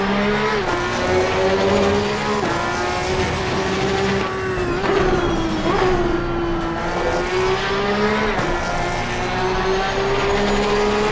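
A Porsche 911 GT3 Cup race car in the Assetto Corsa Competizione sim at Donington Park, its engine held loud at full throttle with a steady, slightly wavering high whine and brief dips at gear changes, no voices.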